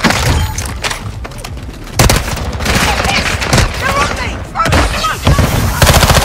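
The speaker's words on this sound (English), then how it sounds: "hear gunshots, but I don't see him" Rapid bursts of gunfire, loud and continuous with booming shots and automatic fire, an intense game firefight.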